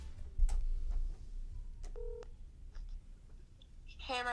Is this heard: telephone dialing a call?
yes